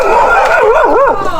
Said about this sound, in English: Oh look, the doggy!